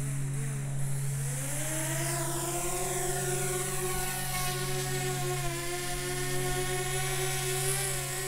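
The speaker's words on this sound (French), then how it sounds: "on va faire immédiatement décoller le drone donc avec les contrôles de la manette" A DJI Spark drone lifts off, its propellers spinning up into a steady, close buzzing whine that rises in pitch over the first seconds and then holds level throughout.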